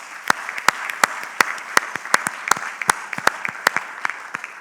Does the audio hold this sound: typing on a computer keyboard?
no